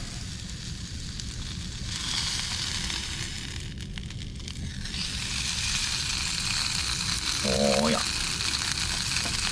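Food heating in a pan inside a truck camper, a steady soft sizzle with light crackling throughout, under a man's brief spoken remark.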